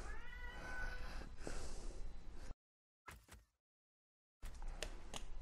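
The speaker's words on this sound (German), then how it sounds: "ihr habt es wahrscheinlich gehört, ich habe eine kleine Katze noch hier rumlaufen" A small cat meows plaintively a couple of times at close range, with abrupt gaps of silence between bursts of sound and no talking.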